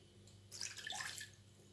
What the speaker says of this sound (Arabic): كنديرو كاس ديال الماء